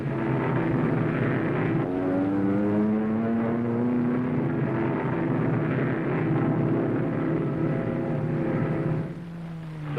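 RAAF Kittyhawk fighter planes peel off for a low-level strafing run over the Vogelkop Peninsula, a loud, steady engine drone with rising and falling pitch sweeps as aircraft pass, continuous throughout, no voices.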